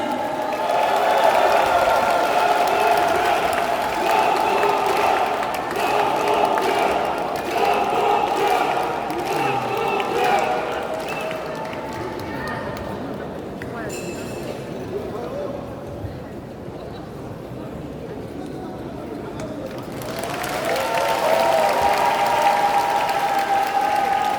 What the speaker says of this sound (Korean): 뜨거운 박수와 함성으로 맞아주십시오